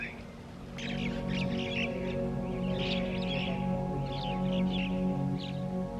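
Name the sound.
birds calling at a marble mosque in Punjab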